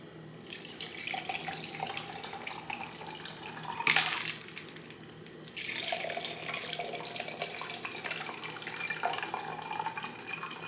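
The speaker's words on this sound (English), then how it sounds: "And then you pour your drink." A drink is poured over ice in a glass, a steady close splashing stream broken by a short pause and a brief clink before pouring resumes.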